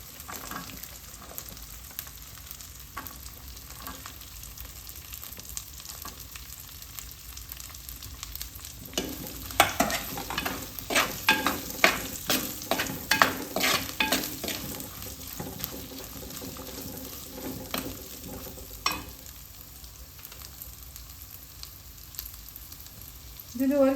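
Chopped onion sizzles quietly in a pan, then a busy stretch of scraping and clattering stirring swells in the middle before the frying settles back to a low hiss.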